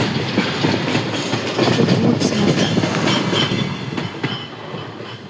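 A train rumbles past on the tracks, loud and near, with a steady roar and rhythmic wheel clatter that fades slightly at the end.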